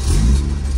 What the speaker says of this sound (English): listen to this car starting up